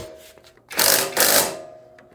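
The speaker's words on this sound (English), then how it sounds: "now we tighten up the motor mounts" A power tool briefly whirs while tightening motor mounts, two close, loud bursts under a second apart that then trail off, with no speech.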